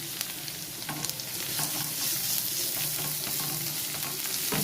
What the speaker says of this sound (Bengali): পেঁয়াজটা বেশ ভাজা হয়ে গেছে। এবার রসুনটা আমি যেটা গ্রেট করে রেখেছিলাম ওটা দিয়ে দিলাম।